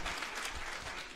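An audience at a stand-up comedy show answers with a round of clapping, a short, even wash of applause filling the room, moderately loud and unaccompanied by speech.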